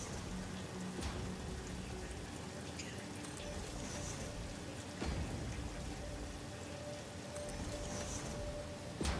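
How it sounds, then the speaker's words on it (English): Steady rain falls across an industrial base in the video game Satisfactory, a continuous soft hiss with scattered droplet patter and faint machinery hum, moderately loud and even throughout. "I love the rain."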